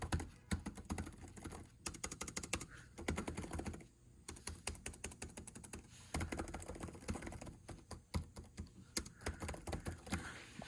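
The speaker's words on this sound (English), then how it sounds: "Typing on it feels quick. You can hear the keyboard sound," Rapid, uneven key clicks from the keyboard of a 2019 Acer Chromebook R13 laptop, typed in quick bursts with short pauses, close and fairly soft, with no talking.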